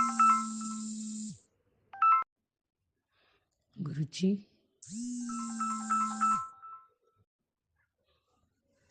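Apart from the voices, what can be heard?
phone ringtone during a call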